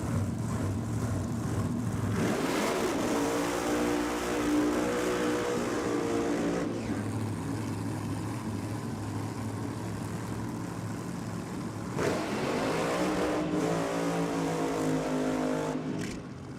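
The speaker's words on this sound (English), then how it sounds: "478 cubes of big block Chev on board the dragster." A nitro drag-racing dragster powered by a 478-cubic-inch big block Chevy engine roars loud and steady, with rising revs and sweeping pitch changes as it passes.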